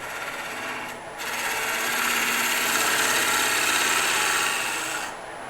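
A small Vicmarc lathe spins a wooden mushroom blank while a tool cuts down a tenon, giving a steady, fairly loud rasping hiss that swells after a brief pause and holds for several seconds before easing off.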